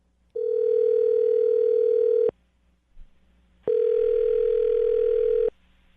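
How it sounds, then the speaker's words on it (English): A steady telephone dial tone sounds twice, each lasting about two seconds with a short silent gap between, clear and close. "I'm going to dial the phone number right now,"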